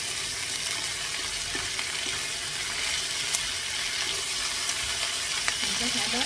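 Clams stir-frying with flowering garlic chives in a hot pan give off a steady, dense sizzle throughout, with a few faint clinks of a utensil stirring near the end.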